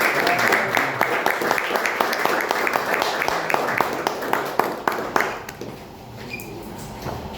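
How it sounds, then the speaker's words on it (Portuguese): An audience at a guitar clinic claps in a dense burst for about five seconds, then the applause thins and fades out toward the end. "vamos a dar un aplauso aquí a Blanco Niño Horta"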